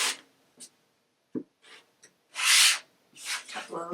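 Fabric is cut along a quilting ruler in short separate strokes, quiet rasping swishes with silence between them, and a louder, longer rub near the end.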